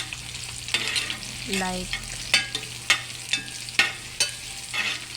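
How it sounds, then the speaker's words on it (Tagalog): Garlic, onion and ginger sauté in a pan for chicken adobo, a soft sizzle under repeated scraping stir strokes from a utensil, close by; a voice speaks one brief word. "At mag-isa na tayo ng ating mga aromatics guys."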